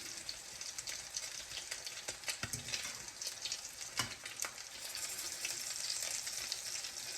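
Salmon croquettes sizzling and crackling in a hot pan with a little grease, a steady bright frying hiss with occasional louder pops and scraping, no talking.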